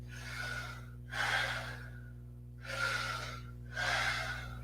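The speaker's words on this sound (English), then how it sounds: "Keep breathing towards it." Deep, rapid breaths in a yoga breathing exercise: three forceful, rushing breath bursts about a second apart, close and clear over a low steady hum, with no talking.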